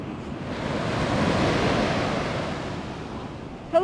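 Surf rolls in at Coronado Beach outside Panama City, a broad wash of breaking waves and wind that swells and eases, heard alone.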